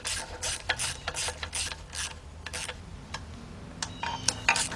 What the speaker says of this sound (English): 1/4" drive ratchet, and that's all I want to do here is just bring it down just till it barely stops